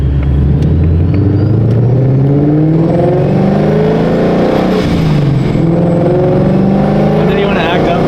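A 900 whp supercharged Ford Mustang S650 roars loudly and continuously, its deep engine note rising and falling with throttle, with a faint voice underneath.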